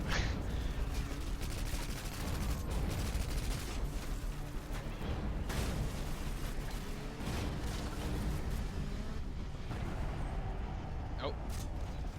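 Dense game gunfire from Modern Warfare 2 on Veteran difficulty, near-continuous rifle and machine-gun bursts with booming impacts running throughout, layered under voices talking.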